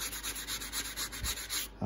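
A sanding pad scrubs surface rust off a Snap-on FV71 tool in steady back-and-forth rasping strokes, close and continuous, with a heavier thump at the end.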